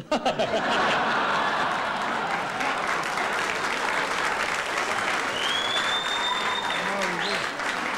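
Large awards-show audience breaking into loud sustained applause that continues steadily throughout, with scattered laughter and a voice heard underneath.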